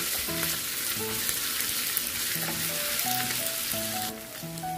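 Ground pork frying in a pan for ginisang giniling with potatoes, a steady bright sizzle with light stirring noises over soft background music, no voices.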